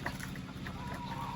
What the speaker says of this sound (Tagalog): So ito, palagay ko tandang.